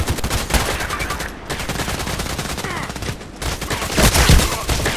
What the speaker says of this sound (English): have you seen how many shots they were flying to me? Like 5, 6, 7, 8 shots at once?